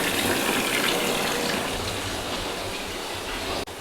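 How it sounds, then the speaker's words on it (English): Bathtub filling from the tap, a steady rushing gush of water running continuously at close range without any talk, ending with a brief dip at the close. "So I'm filling up the bathtub"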